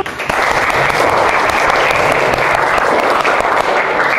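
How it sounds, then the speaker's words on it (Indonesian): Classroom or group audience breaking into loud, sustained applause, dense and even clapping throughout without speech. "Tepuk tangan untuk kita."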